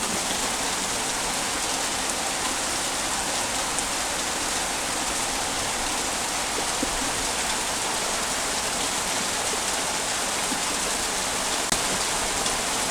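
Heavy rain pours steadily onto a flooded village yard, a dense continuous hiss without pauses, loud and close, with no voices.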